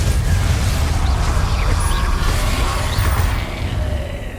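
Bombarda spell from Hogwarts Legacy detonating, a loud, close, sustained rumbling blast with a low, heavy body that slowly fades toward the end.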